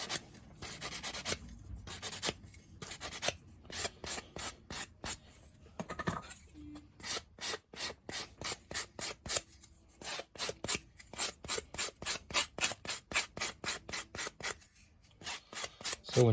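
A sanding block rubs along the edge of a wooden tie chest box, a steady run of short rasping back-and-forth strokes, close and fairly quiet, speeding into a quick regular rhythm after a few slower passes.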